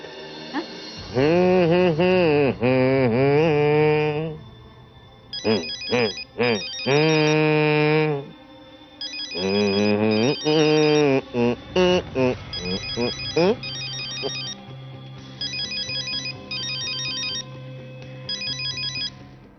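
A phone ringtone plays a repeating electronic melody in bursts, loud and close, with short pauses between phrases and a steady tone underneath.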